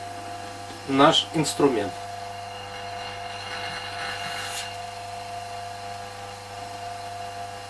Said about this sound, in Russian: подсоединяем источник вакуума, включаем